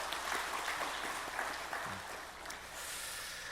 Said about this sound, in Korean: 우리 호사나 찬양대 하나님께 큰 영광 돌릴 수 있도록 격려의 박수 함께 해주시겠습니다.